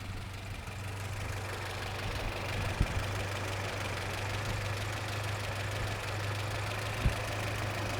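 A 1967 Jeepster Commando engine idles smoothly and quietly, a steady low hum throughout with two brief soft clicks, no voices.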